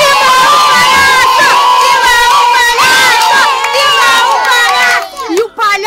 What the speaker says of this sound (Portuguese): quando o palhaço chegou pra fazer o show, todo mundo começou a gritar